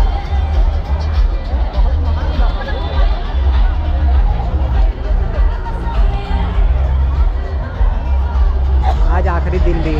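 A large festival crowd at the Ambedkar Mahotsav produces a dense, loud hubbub of overlapping voices and chatter. The babble continues without a break, with nearby voices rising above the general din.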